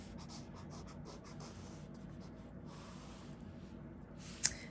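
A marker sweeps across paper while drawing a fox portrait, making soft, quiet scratchy strokes in short repeated bursts with brief pauses, then a sharp little tap near the end.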